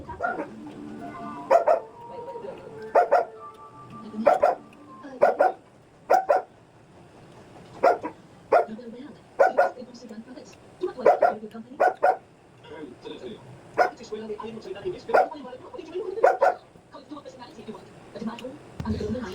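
A dog barks repeatedly in loud, sharp bursts with short pauses between them, close by, mixed with some whimpering yips and a person talking.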